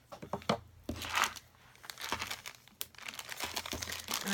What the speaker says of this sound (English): I'll just cut it right here.